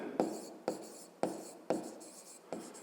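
A pen writes numbers by hand during a fifth-grade maths exercise, five short scratchy strokes in a steady rhythm, each fading quickly, quiet and close with no voices.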